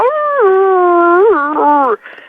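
A man imitates a dog howl with his voice, holding one long, wavering, mournful tone that bends in pitch near the end, then breaks off into a short breathy trail. It is loud, close and alone.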